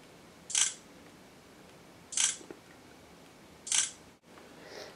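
Three crisp phone camera shutter clicks from a Droid Incredible 4G LTE, evenly spaced about a second and a half apart, close and sharp over a quiet background.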